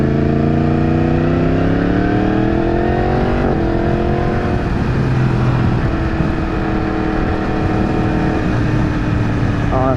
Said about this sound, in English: I think this crossplane sound is excellent